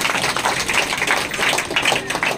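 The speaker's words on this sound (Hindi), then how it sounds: "जोरदार तालियां बजाएंगे।" A congregation claps loudly at a prayer meeting, a fast, uneven patter of many hands close by, with some voices mixed into the clapping.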